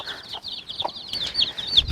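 A hen clucks in short, repeated bursts while going after partridge chicks near a hatching area, the calls fairly close with faint farmyard background.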